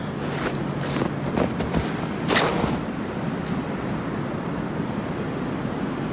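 A brook flows through winter woods in Maine, a steady broadband rush of water that stays constant and fairly loud, with a few brief louder gusts or splashes early on and no talk.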